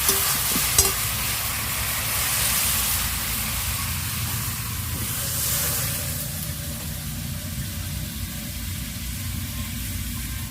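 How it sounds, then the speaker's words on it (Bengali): Water goes into a pan of fried spice paste for a tilapia curry, giving a sharp splash early on, then a dense, steady sizzle and bubbling that carries on to the end, with no voices. "মশলা কষানো হয়ে গেছে, এখন আমি জল ঢেলে দেবো।"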